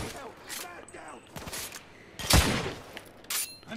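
Gunfire from a weapon in the video game The Order: 1886, several sharp bursts scattered across the moment, the loudest near the middle and another near the end.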